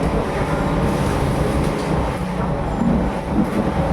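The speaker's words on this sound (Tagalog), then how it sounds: "dumadaan yung train dito" A train rolls steadily past a residential spot, its broad continuous rumble holding close and loud throughout with no clear breaks.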